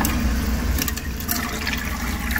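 Water rushes steadily into an old Crane toilet tank, a continuous close hissing fill with a low gurgling undertone.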